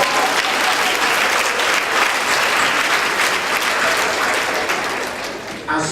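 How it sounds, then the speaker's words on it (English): A round of applause from a group on a video conference, sustained dense clapping that fills the whole stretch at steady loudness and tapers off at the end. "I'm going to give you guys a round of applause."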